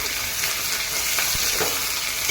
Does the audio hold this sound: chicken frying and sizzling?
yes